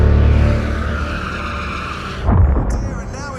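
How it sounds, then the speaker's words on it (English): Adrian Sutil's Formula 1 car sliding off at the Dunlop corner on lap 42 and crashing into the barriers: a loud, close, sustained skid with a roaring engine, ending in a sharp burst of impact noise. "On lap 42, Adrian Sutil went off at the Dunlop corner, crashing straight into the barriers."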